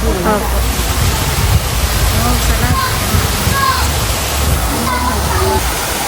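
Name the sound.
waterfall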